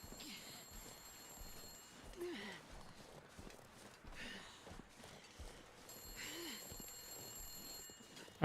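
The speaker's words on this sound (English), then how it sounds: "Phone ringing." A telephone rings in a video game in two short bursts of high, thin electronic ringing, one at the start and one near the end. Faint ambient game sounds fill the gap between them.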